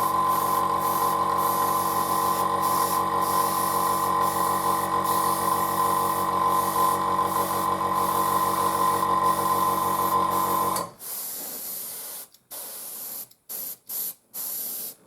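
Airbrush spraying paint onto a Panzer IV scale model, a steady close hiss running for about eleven seconds, then several short separate bursts of spray after it cuts off.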